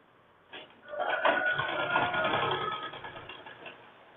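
Sewing machine stitching a blouse, a steady close mechanical whirr with rapid needle clatter running for a few seconds after a brief start.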